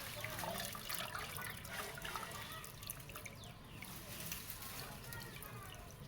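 Quiet, continuous water trickling and splashing, with faint scattered drips and soft background noise throughout.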